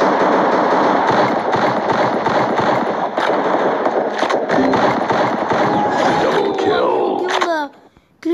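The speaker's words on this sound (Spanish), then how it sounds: "Le tiré los tres balazos, punta." Rapid volley of gunshots from a handgun, sharp cracks fired back to back in a dense burst that fills the clip, ending abruptly in near silence.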